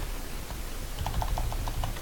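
Keys clatter on a computer keyboard in a quick, even run of soft taps, close by and fairly quiet over a light background hiss.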